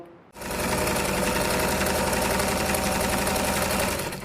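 An electric sewing machine stitches the umbrella-cut lower panel of a skirt, starting abruptly after a brief silence and then running a fast, even, close mechanical rattle without pause.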